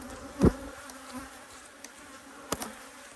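Honey bees buzzing around a hive, a faint, steady hum with a couple of brief, louder buzzes as individual bees fly close past.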